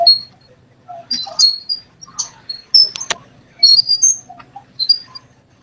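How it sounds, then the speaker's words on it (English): Quick, high chirps come in short bursts, some sharp and some warbling, repeating irregularly against a quiet, faintly humming background. "That chirping noise is unbelievable."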